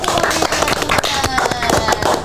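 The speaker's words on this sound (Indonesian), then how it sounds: "Tepuk tangannya dulu dong" A studio audience at an Indonesian talk show claps, loud and busy, with sharp irregular slaps over a bed of music or background voices that continues throughout.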